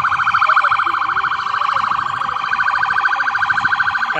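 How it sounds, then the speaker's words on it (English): A loud, close emergency siren wails continuously in a rapid repeating rise and fall as an ambulance arrives at a violent riot scene, with no talk over it. "An ambulance from the JFK has arrived on the scene."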